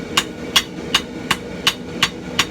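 A blacksmith hammers a forged knife blank to dress its width and thickness, seven sharp, ringing blows at an even, unhurried pace, loud and close with no talk.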